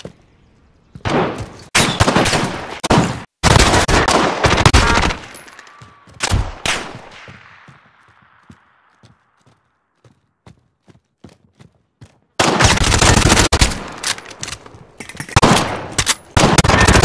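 Loud bursts of automatic gunfire in Call of Duty: Warzone break out in separate volleys with sharp cracks. Quieter gaps between them hold scattered single shots and a fading echo.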